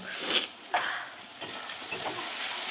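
A spatula stirs chili powder with a splash of water in a frying pan for soybean kofta curry, making several distinct scraping strokes over a soft, steady sizzle, with no talking.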